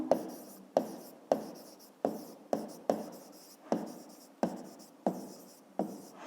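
Chalk or marker writing on a board during a fifth-grade maths lesson, heard as about nine sharp strokes with scratchy trails, each starting abruptly and fading, steady and fairly close with no talk over them.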